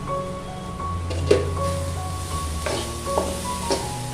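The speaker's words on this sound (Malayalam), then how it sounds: "നമുക്കിതിൻ്റെ മൂടി ഒന്ന് മാറ്റി ഇളക്കി നോക്കാം" Bitter gourd thoran is stirred in a pan once the lid comes off, giving a few soft, scattered spatula scrapes and taps over a faint background hum, with no talking.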